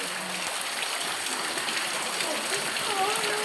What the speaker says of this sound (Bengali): এত বৃষ্টি রে